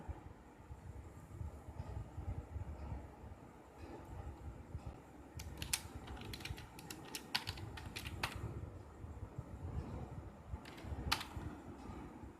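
Someone types a comment on a computer keyboard: clusters of sharp, close key clicks come in quick runs through the middle and again near the end, over a steady low background rumble.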